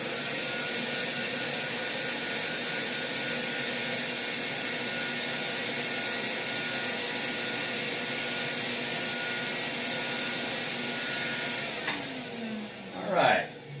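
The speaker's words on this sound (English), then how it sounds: "I won't be able to say anything while this pump is on," Air track pump running with a loud, steady whooshing drone that holds for most of the clip, then a brief rising whine as it winds down near the end.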